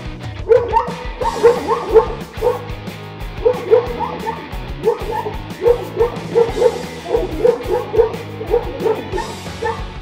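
A dog yips, whimpers and barks repeatedly at a bear, its rapid high-pitched calls coming in bursts throughout, close and fairly loud.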